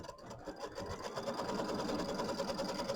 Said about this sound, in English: now I'm going to sew down my tack down line